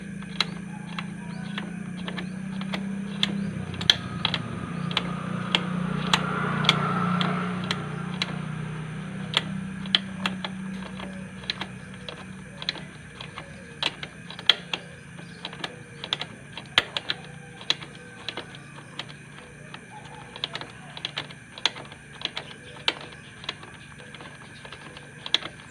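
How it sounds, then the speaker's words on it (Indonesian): A 12 mm socket wrench tightens a bolt while the rear pulley seal is replaced on a Yamaha Mio Soul scooter, making a long series of quick, sharp ratchet clicks over a low background hum. "Kita kencangkan ya menggunakan kunci 12 sok."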